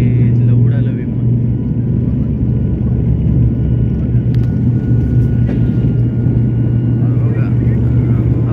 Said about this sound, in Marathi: रनवे बरोबर नाही आहे. कडकडकडकडकडकडकडचा आवाज येतोय.